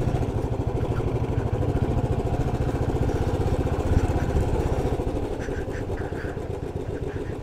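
Motorcycle engine running steadily on a mountain ride from Maimajuwa to Kalpokri on the Sandakphu route, a continuous close, loud throbbing drone that eases slightly toward the end, with no talk.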